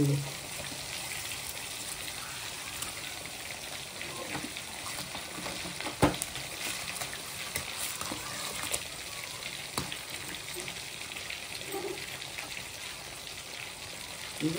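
Fish frying in a pan, a continuous soft sizzle with occasional sharp clicks and scrapes of utensils, moderately close with faint background noise.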